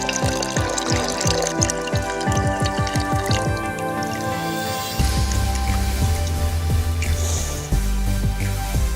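Tender coconut water being poured onto ice apple pulp in a vessel for a chilled juice, a continuous splashing, dripping pour up close that shifts to a heavier gush midway, with no talking.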